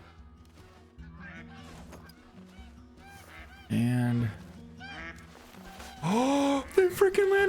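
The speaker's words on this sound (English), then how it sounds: "Geese coming in." Geese honk loudly and repeatedly as a flock flies in over a hunting spot, sharp nasal calls in bursts over a low droning call sound, with a brief word spoken near the start.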